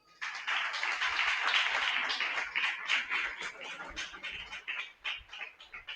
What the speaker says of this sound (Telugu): ఒకసారి చప్పట్లు కొడదాం